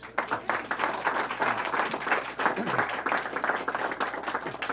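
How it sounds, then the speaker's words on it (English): At a press event for book donations, the audience applauds the children, with lively, uneven clapping running throughout, close and fairly loud, and a few voices mixed in. "Can we give the children another round of applause?"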